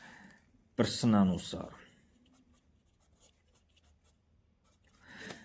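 Writing on a board while a maths problem is worked out, a soft scratchy stroke sound at close range, with a voice speaking briefly near the start.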